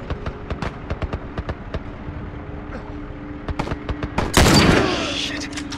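Rapid gunfire in the video game The Last of Us, a string of sharp shots in quick succession followed by a louder blast with a noisy tail, with occasional voice underneath.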